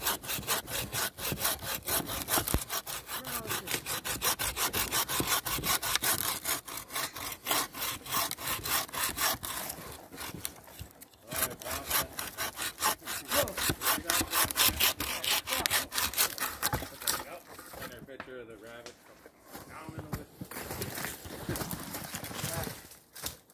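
A hand saw cuts hardwood at a lean-to camp, a dense run of fast rasping back-and-forth strokes, close and loud, with a few short pauses and a brief quieter stretch near the end.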